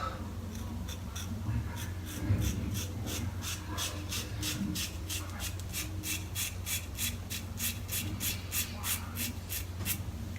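A razor blade shaving a head, heard as a steady series of short, rhythmic scraping strokes that speed up into an even, repeated rasp, close and alone over a low background rumble.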